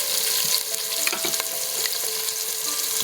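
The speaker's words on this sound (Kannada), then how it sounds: "ಈರುಳ್ಳಿ ಸ್ವಲ್ಪ ಗೋಲ್ಡನ್ ಕಲರ್ ಬರೋವರೆಗೂ ಕೂಡ ನಾವು ಫ್ರೈ ಮಾಡ್ಕೋಬೇಕಾಗುತ್ತೆ" Sliced onions sizzle steadily in hot oil in a pan for mutton biryani, a dense, even frying hiss with a few soft stirring clicks, close and continuous throughout.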